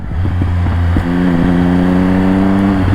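A Triumph Speed Triple 1200 RS motorcycle accelerates hard in first gear, its loud close engine note climbing steadily as revs rise, with a brief dip before the pitch keeps building, no voices.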